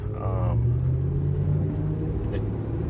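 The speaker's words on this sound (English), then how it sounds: "the Montero is definitely going through its first gear a lot longer, and shifting at a higher RPM" A Mitsubishi Montero engine rumbles low and steady while accelerating, holding first gear with a continuous drone and a faint rising whine early on, heard from inside the vehicle.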